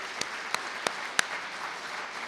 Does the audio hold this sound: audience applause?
yes